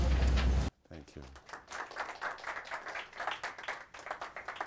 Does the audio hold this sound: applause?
yes